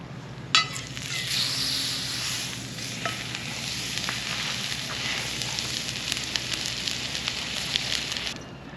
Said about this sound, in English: So toasting up now is gluten-free bread for Natalie.